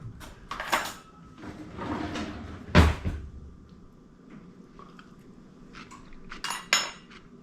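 Dishes, pots and pans being washed and handled in a home kitchen while cooking beef tips and noodles, with scattered clinks, clatters and knocks, one sharp loud bang near the middle, and faint cupboard or drawer sounds between.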